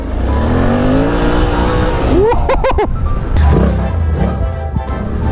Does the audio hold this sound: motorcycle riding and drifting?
yes